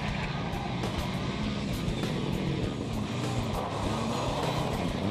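A rally car's engine roars loud and close, a steady dense drone with no gaps and road and wind rumble mixed in, heard from on board as the car slides through corners on a rally stage.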